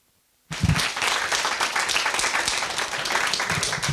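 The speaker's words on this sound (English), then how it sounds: "Please join me in welcoming Claire and Dan with a big round of applause." Sudden burst of audience applause at a literary talk with author Claire Messud, starting after a short silence and holding as dense, steady clapping from a sizable crowd.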